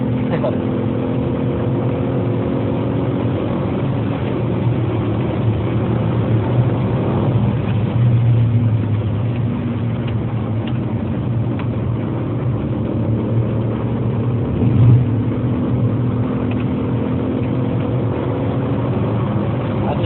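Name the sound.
car driving, engine running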